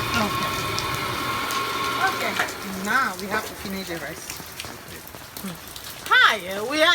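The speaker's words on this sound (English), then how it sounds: "now it's getting a heavy rain" Heavy rain pours down outdoors during African-style cooking, a steady patter under close talking with some clinking.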